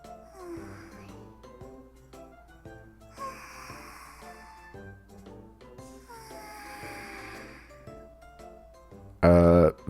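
A voiced imitation of the catgirl Vanilla sniffing in the visual novel Nekopara: soft, repeated sniffs and breathy snorts over gentle background music, ending in a short, loud burst of sound.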